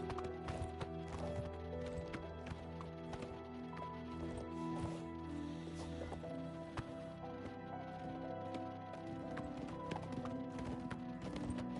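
Horse hooves clip-clopping at a quick galloping rhythm in the video game Oblivion Remastered, steady and moderately faint, layered over soft game music tones.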